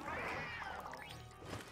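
A kitten meows once in Luigi's Mansion 3, a clear, fairly quiet rising-then-falling cry lasting about a second, with a small fading tail after it.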